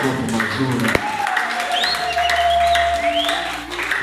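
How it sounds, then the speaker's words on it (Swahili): A church congregation applauding during a service, a continuous wash of clapping mixed with voices and tonal sounds from the room. "Kipindi cha makofi mazuri."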